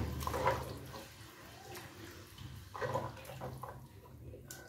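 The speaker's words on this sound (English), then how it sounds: "I'm going to add in a little bit of water for some" Water poured from a tap into a pot of jollof rice, a soft splashing gush in two short bursts with quiet gaps between, faint and close against a low background hum.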